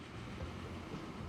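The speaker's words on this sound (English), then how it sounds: "Oh, we have log train going back up." A log train runs along the tracks in the video game Transport Fever 2, a low, steady rumble of rolling wheels and rail noise heard faintly and continuously, with no talking.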